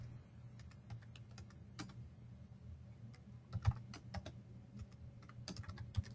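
Steady typing on a computer keyboard while logging in to a reporting application, irregular bursts of key clicks close up over a low background hum, with no talking.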